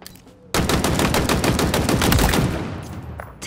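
Rapid automatic gunfire from a Halo Infinite multiplayer tutorial, a dense loud burst of repeated shots starting abruptly and sustained for about three seconds before tapering, with no talk.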